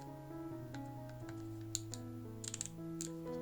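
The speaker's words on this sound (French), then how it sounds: "le circuit imprimé qui se trouve sous cette croix a tendance à légèrement s'enfoncer sous la" An 8BitDo controller's d-pad pressed repeatedly, giving small sharp plastic clicks scattered over a background of steady musical tones, close and faint.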